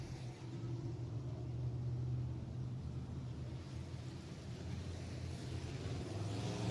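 Non-wing sprint cars circle a dirt racetrack at Heart O' Texas Speedway, heard as a steady, somewhat distant engine rumble and drone with no break.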